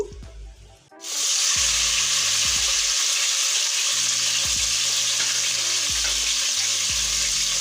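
Garlic, nut and ginger paste dropped into hot oil in a pan, bursting into a loud, steady sizzle after a second of quiet, with occasional low scraping knocks of stirring throughout.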